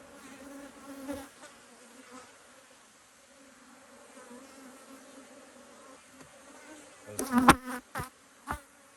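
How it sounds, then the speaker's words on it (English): Honey bees buzz faintly around an apiary hive, a thin steady drone near and far, with a few sharp rustling knocks and scrapes of hive handling partway through. "yes, I feel like there's a bee up in my suit."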